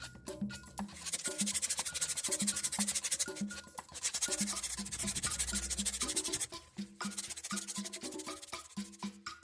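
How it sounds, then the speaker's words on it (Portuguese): Sandpaper rubs over wood while an agogô is being shaped, making rhythmic back-and-forth rasping strokes in bursts with short pauses between them, close and fairly loud, with no one talking. "Eu vou começar a lixar aqui."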